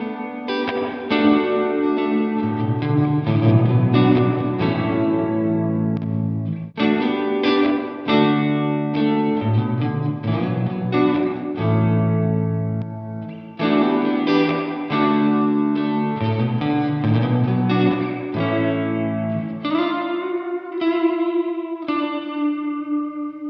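Overdriven electric guitar plays chords and riffs through a Fender Hammertone Reverb pedal switched from hall to room to plate, the ambience changing between sections, ending with a ringing, spacious tail.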